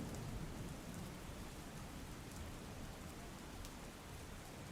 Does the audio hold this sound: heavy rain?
yes